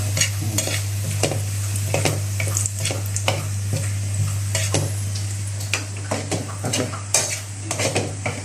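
Shallots frying in a pan for a noodle dish, steady sizzle punctuated by frequent clinking scrapes of a metal utensil against the pan under a low steady hum.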